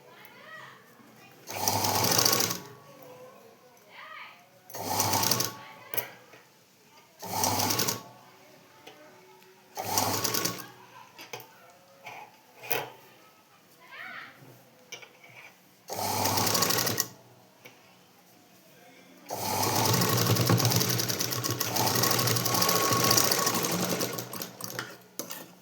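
Sewing machine stitching along a folded fabric edge, running in repeated loud bursts of a few seconds each with short pauses between, ending in one longer continuous run.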